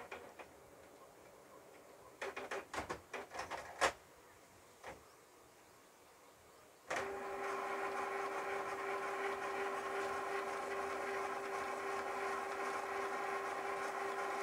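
A Canon printer runs a test print. A few sharp mechanical clicks and clunks come first over near silence, then a steady, loud motor whir with a high tonal whine holds to the end.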